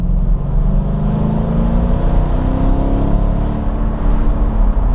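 A Mercedes R172 SLK/SLC convertible driving along, its engine and road rumble a steady low drone close and loud, with wind noise over it and no voices.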